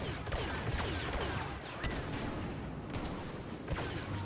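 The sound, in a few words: sniper rifle headshot in Star Wars Battlefront video game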